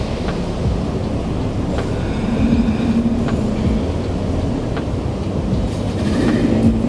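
A rail train running to Bangkok's airport rolls along the tracks with a steady low rumble and faint wheel clatter, heard from inside the car and close by, with no talk.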